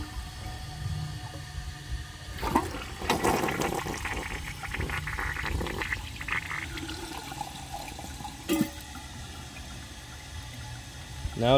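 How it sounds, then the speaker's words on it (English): A 2007 Kohler Highline Ingenium toilet with a sticking flapper flushes with a sudden loud rush of water, then a steady draining and refilling gurgle, close up, ending with a sharper splash. "so I'm going to flush it again."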